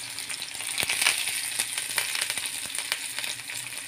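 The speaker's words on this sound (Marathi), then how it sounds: "मोहरी घालते मी, अर्धा चमचा मोहरी घातलेली आहे। कांदा, ओला कांदा पण वापरलेला आहे मी इथे।" Mustard seeds and chopped fresh onion frying in hot oil for a Marathi breakfast dish, a steady close crackling sizzle with scattered sharp pops throughout, no voices.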